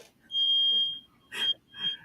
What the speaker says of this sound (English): I think my fire alarm's going off.